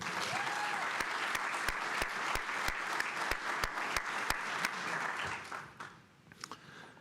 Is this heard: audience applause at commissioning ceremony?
yes